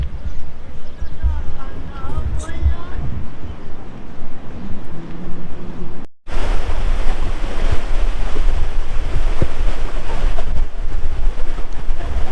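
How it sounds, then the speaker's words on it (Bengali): Rough, churning sea waves at Sugandha beach, Cox's Bazar, after heavy rain, a loud continuous roar of surf buffeted by strong wind noise, with a brief cut midway before the crashing resumes. "সমুদ্রের উত্তাল ঢেউ।"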